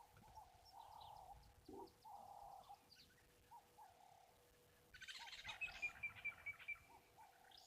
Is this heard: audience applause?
no